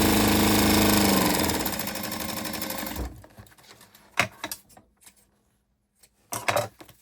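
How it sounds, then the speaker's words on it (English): A sewing machine runs fast and steady for about three seconds, stitching down the side seam of a fabric crossbody bag, then stops; a few handling clicks and fabric rustles follow up close. "And then we're gonna sew down the side"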